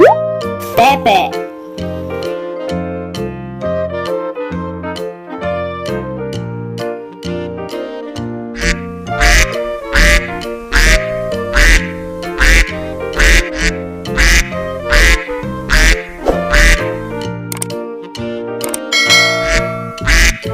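A farm duck quacks in a long run of rapid, evenly spaced bursts over an upbeat musical backing, with a voice speaking near the start.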